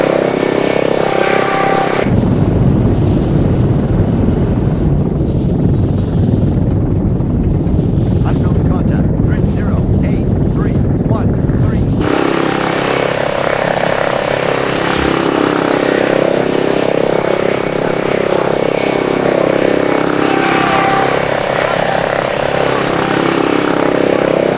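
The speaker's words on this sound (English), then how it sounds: "a helicopter should have spawned" A helicopter flying in a video game mission, a loud continuous engine and rotor drone that shifts in tone partway through, with speech present alongside it.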